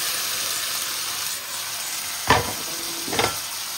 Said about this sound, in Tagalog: ilalagyan na natin yung ating chicken